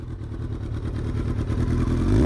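A Kawasaki ZX-12R sport motorcycle engine revs with a rapid pulsing rumble, growing steadily louder as it accelerates close by.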